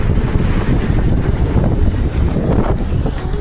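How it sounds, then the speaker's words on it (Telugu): Strong wind at the beach buffets the microphone with a constant, loud, low rumbling roar, with a faint wash of surf beneath it and no talking. "అప్పుడు బాగా గాలి మొదలైంది"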